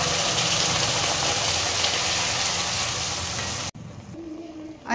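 Spice paste goes into a tempering of sizzling curry leaves and cumin, giving a loud, continuous crackling sizzle that cuts off abruptly near the end. A quieter hiss follows.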